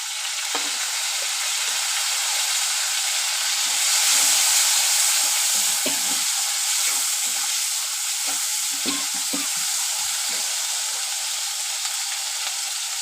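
Ginger paste sizzles and fries steadily in a pan while khichdi is cooked, a continuous close hiss with occasional soft stirring scrapes and no voices.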